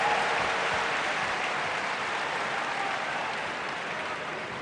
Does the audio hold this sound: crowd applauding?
yes